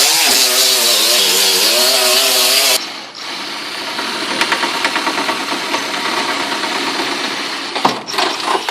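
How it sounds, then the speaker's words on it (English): An angle grinder whines loudly against the steel frame rails of a Mustang for a few seconds, then stops, leaving a rough mechanical rumble and clatter. "You want to grind these frame rails and get them all clean."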